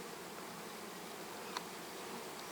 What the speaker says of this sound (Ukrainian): Ось ще один рій.